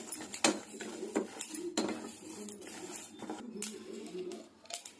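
Flax seeds and a little cumin dry-frying in a pan give off sharp, intermittent clinks and scraping clatter from close by, with soft crackling in between and no voices.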